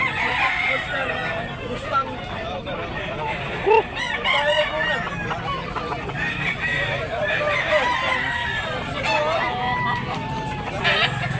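Gilmore gamecock roosters crowing at a market in Tabunok, Talisay, Cebu, with several loud, drawn-out crows overlapping and clucking mixed in, under a steady background of people talking.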